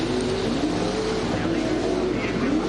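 A super sedan race car, a Ford Thunderbird with a Chevrolet engine, drones steadily at full throttle down the back straight of a speedway, its engine note sustained and fairly near.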